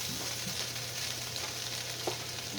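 A steady, soft sizzle of rice frying in a pan with soy sauce, with faint scraping and stirring against the pan bottom at close range.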